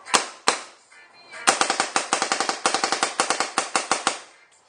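A custom Ion paintball marker with a QED fires on semi-auto, first two spaced shots and then a fast string of sharp, loud pops at an uneven trigger-pull rhythm, each shot clear and close with no talk over it.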